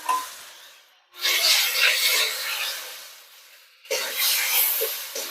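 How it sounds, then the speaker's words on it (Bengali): Poppy seed paste stirred into a Bata fish curry seasoned with black cumin, producing broad close scraping and sizzling swishes in two long sustained passes separated by a brief gap. "এভাবে আমি নেড়ে চেড়ে নেবো"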